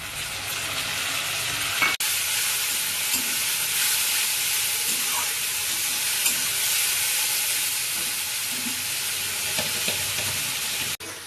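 Ground spice paste of ginger, green chili, garlic and whole cumin sizzles loudly with deep-fried onions in a pan, a continuous close frying hiss with stirring scrapes and a couple of sharp clicks, no talk.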